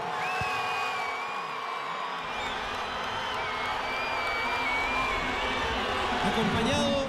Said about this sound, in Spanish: Acá está la bienvenida y el aplauso, el reconocimiento para el capitán de la selección chilena